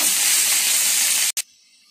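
Country chicken pieces sizzle loudly in hot oil in a pan, a steady close hiss that cuts off abruptly near the end, leaving only faint low noise.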